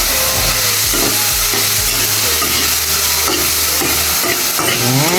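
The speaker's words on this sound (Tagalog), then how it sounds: "So, prituhin lang natin siya hanggang" Fish frying in hot oil for a Filipino meal served with chop suey, a steady loud sizzle and crackle throughout, with occasional stirring and scraping sounds and a low hum underneath.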